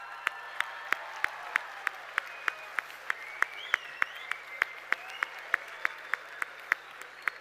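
Audience applause for Luca Perri, a dense wash of clapping marked by a steady, evenly spaced beat of rhythmic claps, with a few whistles rising over it and no speech.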